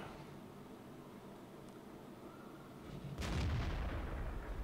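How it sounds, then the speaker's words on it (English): A tank gun in World of Tanks fires a single deep, booming shot late in the clip after a quiet stretch of low rumble. "Took a couple of pot shots."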